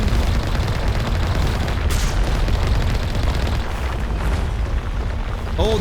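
Cannons on the Mako tank in Mass Effect fire continuously while fighting a Thresher Maw, a loud, dense barrage of booming blasts and rumbling explosions with no clear breaks.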